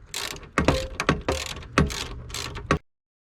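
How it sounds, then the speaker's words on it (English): Bolts being tightened on a truck gun safe, a series of short ratcheting clicks and mechanical bursts in quick uneven succession, close and fairly loud, then stopping abruptly. "I need to tighten them bolts up"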